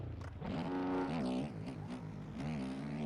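Race car engine in a racing video game revving continuously, its pitch climbing and dropping through shifts with a loud, steady, close drone that runs throughout without pause.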